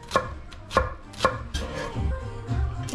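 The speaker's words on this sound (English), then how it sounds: "Let's cut some shallot." A knife chops shallot on a cutting board: sharp, close thuds about every half second, with a rhythmic rocking crunch between them and no talking.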